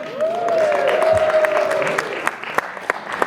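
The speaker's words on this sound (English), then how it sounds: "That's defeated applause of married people" Scattered, thin applause from a stand-up comedy audience of long-married people, a few claps rising and fading, with a voice drawing out a sound over the start.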